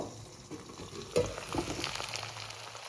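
Vegetables with turmeric are stirred in a hot frying pan for a small-fish chorchori, a soft continuous sizzle broken by a few scraping stirs and clinks near the middle, with no speech.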